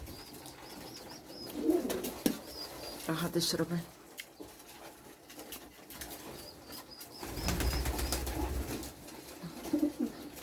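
Romanian pigeons in a loft give soft, low coos amid wing flaps and shuffling, close but quiet, with someone talking over them.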